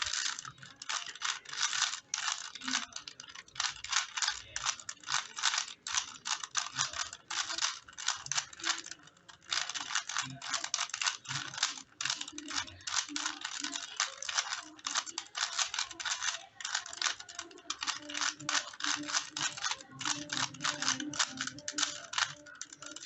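Rapid, continuous plastic clicking and clacking of a 3x3 Rubik's cube being twisted and shuffled, close up and steady for the whole stretch with no talking.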